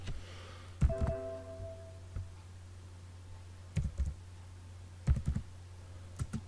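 Keys clicking on a computer keyboard while a GW-BASIC program is typed, quiet irregular bursts of keystrokes in small clusters over a steady low hum, with gaps between them.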